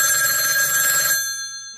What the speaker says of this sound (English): do not answer this phone call